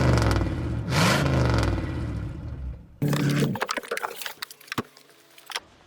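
A car engine cranks and catches with a loud roaring burst, then settles into uneven revving with sharp clicks and rattles up close.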